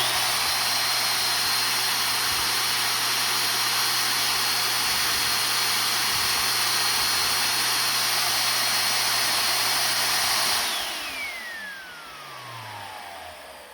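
A Bissell PowerForce Helix Turbo Pet 2190 upright vacuum runs with its brush roll spinning, a steady loud whine and motor hum that holds for about ten seconds, then spins down as the pitch falls away.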